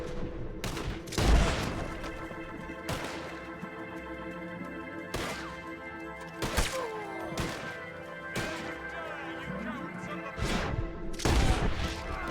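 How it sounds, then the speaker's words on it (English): Gunfire in Red Dead Redemption 2, a string of sharp, loud shots spaced irregularly over a low steady background, with several bursts close together near the end. "Who's shooting from where?"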